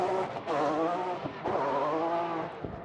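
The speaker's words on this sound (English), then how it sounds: "You can hear that signature Ferrari exhaust note." A V12 Ferrari drift car's high-revving engine roars loudly with a rising, sustained exhaust note during Formula Drift qualifying at Irwindale, briefly dropping off before revving up again, with faint tire noise.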